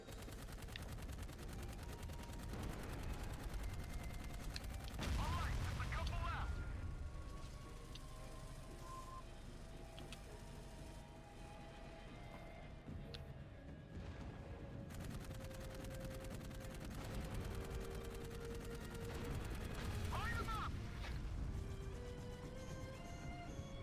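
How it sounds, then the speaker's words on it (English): Video game gunfire from the sci-fi shooter Dark Void: sharp bursts of shots and rattling fire over a low rumbling game soundtrack, strongest in two loud clusters with quieter stretches between. "Stop shooting at me."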